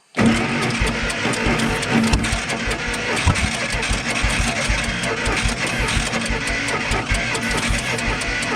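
A Bombardier snow-cat plow's engine, long parked, cranks and catches, then runs steadily with a loud, rough mid-range drone close by for several seconds.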